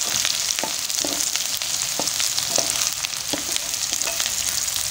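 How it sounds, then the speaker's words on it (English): Onions frying for a goat meat dish, a dense, loud continuous sizzle close by, broken by regular soft taps and scrapes of a utensil stirring the pan, with no talking. "The onion is turning to golden brown."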